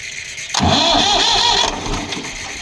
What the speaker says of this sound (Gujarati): કેમ ના ઉપડતું નહીં ટ્રેક્ટર